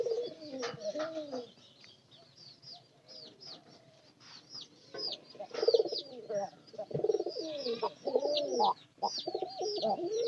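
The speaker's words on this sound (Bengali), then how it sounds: "আমার সবটি পায়রা ডাকে তার মধ্যে এরাই সবচেয়ে বেশি ডাকাডাকি থাকে" Domestic country pigeons coo repeatedly in soft, rolling calls, several birds overlapping at close range with brief gaps between bursts, some faint chirps mixed in.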